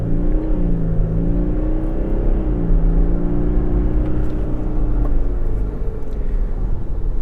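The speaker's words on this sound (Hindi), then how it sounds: "Let's turn on the sport mode, full throttle, let's go." A 2025 Toyota Land Cruiser ZX LC300 accelerates at full throttle in sport mode, its engine a loud, close, deep rumble that climbs in pitch as it shifts through the gears, with no talk.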